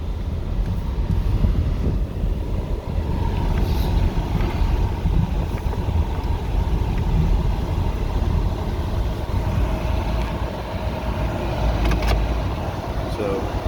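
A 2013 Toyota Sienna minivan with 92,000 miles rolls along on a test drive, its steady low road and engine rumble filling the cabin with a constant wash of wind noise and no break.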